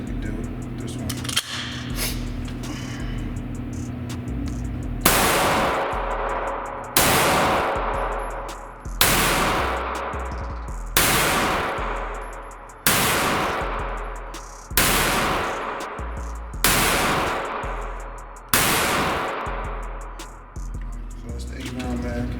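A Hi-Point C9 9mm pistol fires about nine loud, sharp shots at a steady pace roughly two seconds apart outdoors. Each bang rings and decays before the next, with a faint pop and some background noise before the first.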